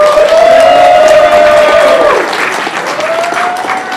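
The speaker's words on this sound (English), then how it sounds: "we would like a huge round of applause for 139 and for the gentleman responsible for sponsoring this tournament" Loud, sustained applause and cheering from a tournament crowd greeting Council Member Mathieu Eugene, with a whistle or whoop ringing over the clapping before it eases slightly toward the end.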